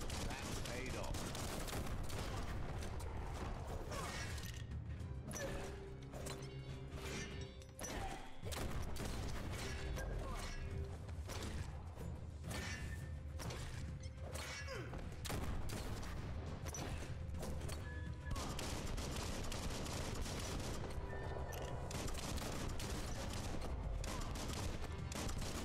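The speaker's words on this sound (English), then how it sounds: "Bullets everywhere." Sustained gunfire in the action game Biomutant, dense bursts and rattling shots running steadily under game music and effects for nearly half a minute, loud and busy throughout.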